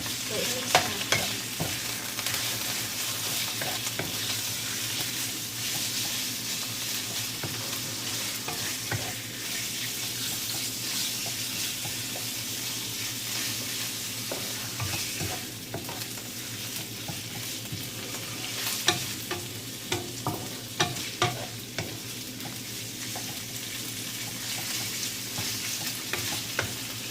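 Sliced pork stir-frying in a pan gives a steady, dense sizzle with scraping stir strokes throughout, loud and continuous with no talking.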